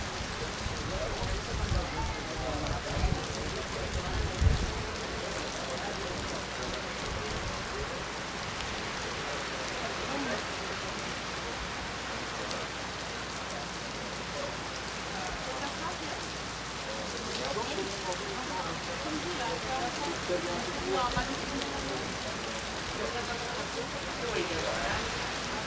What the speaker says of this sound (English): Torrential conditions.